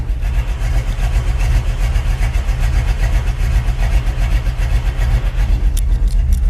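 A 1968 Chevrolet El Camino's engine idles steadily at about 600 to 700 RPM, a loud, continuous low rumble with a regular pulsing lope, heard close and alone.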